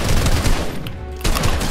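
Rapid automatic gunfire in the video game Fortnite, loud and continuous bursts that briefly drop out near the middle, then resume at full intensity.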